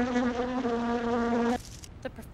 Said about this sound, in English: The bee's trying to get some nectar now.